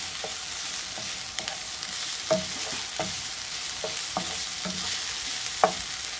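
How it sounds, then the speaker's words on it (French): Onions sizzling in a hot frying pan over raised heat while a utensil stirs them, with steady frying hiss and a series of sharp scraping knocks at irregular intervals, close and fairly loud. "ça fait 5 minutes que mes oignons sont en train de compoter. Donc je vais remonter le feu."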